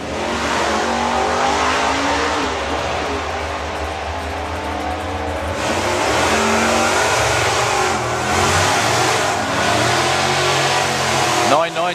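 A big Chevelle drag car revs its engine hard at a nostalgia superstock drag race during summer nationals, with a loud sustained roar and rising pitch sweeps under an announcer's voice.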